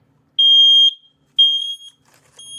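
A smoke alarm triggered by its test button gives loud, piercing, high-pitched beeps: two long tones close together, then the start of a third, with silence between.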